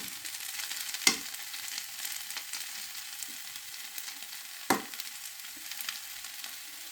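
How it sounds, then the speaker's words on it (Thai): Glass noodles stir-fried with egg and plenty of vegetables sizzle steadily in a hot pan, with two sharp scraping clatters of the spatula standing out over the constant frying hiss; no voices. "นี่แหละจ้ะผัดวุ้นเส้น ใส่ไข่ใส่ผักเยอะๆ"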